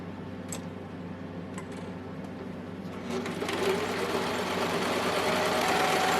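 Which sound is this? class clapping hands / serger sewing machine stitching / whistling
serger sewing machine stitching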